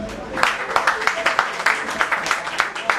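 An audience applauds a musician at a Cape Verdean authors' society event, steady crowd clapping with rhythmic swells of sharp hand claps throughout.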